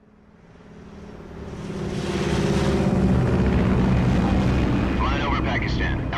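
In a video game, an aircraft flies over Pakistan at 30,000 feet, a deep engine roar that builds from quiet to a loud, sustained rumble as a voice begins speaking near the end.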